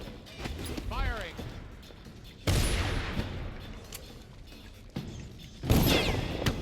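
A guard fires shots at the player in Dishonored, sharp loud reports at irregular intervals mixed with other game sounds and brief chirpy effects, under a speaking voice.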